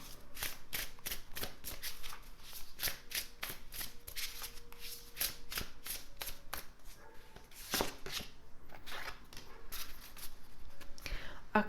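Playing cards are shuffled over and over for a tarot-style message card draw, with crisp riffles and flutters repeating close up for the whole stretch, and no one speaking.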